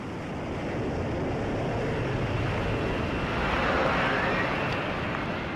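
An F-35 fighter jet hovers on its lift fan, producing a continuous broad, rushing jet roar that swells slightly midway, heard from a distance with wind-like hiss and no talking.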